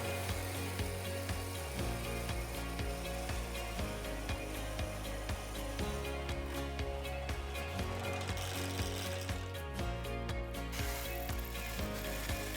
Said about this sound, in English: I'm just drilling out a pilot hole that I can use to put my jigsaw blade in.